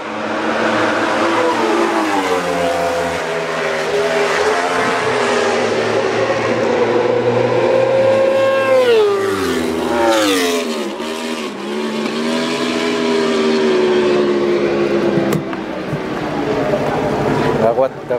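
Big motorcycles in the intermediate class of a fun race at a track day roar past one after another, loud engine notes rising and sweeping down as they pass close by, with a steady drone throughout.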